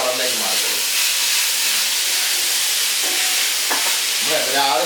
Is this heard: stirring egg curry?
yes